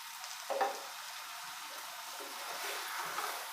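Eggplant and potato curry slow-frying in a pan, a steady soft sizzle with light stirring scrapes and a couple of brief louder spatters, close and continuous.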